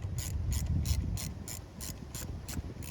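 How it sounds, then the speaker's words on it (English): A ratchet tightens 10mm bolts on the throttle body of a Kia Rio, giving eight evenly spaced clicking strokes close up. It is fairly quiet, with a low mechanical rumble underneath and no talking. "We'll put our bolts back in our throttle body here."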